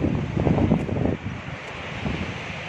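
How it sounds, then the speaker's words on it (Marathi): Strong gusty wind buffets the microphone at a seaside fort used as a watchtower near Bandra, loudest in the first second and then a steadier roar with faint surf beneath. "खूप वारा आहे."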